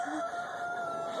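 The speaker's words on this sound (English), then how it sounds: "You did a number on this chicken." A chicken vocalizes faintly in a quiet room, a short cluck-like call over steady background hum, with no talk.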